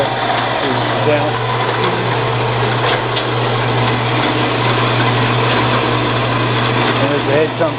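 A 7x12 inch band saw with hydraulic down feed runs as its head lowers, giving a steady motor hum and whine with a busy rattling texture throughout. Nobody speaks.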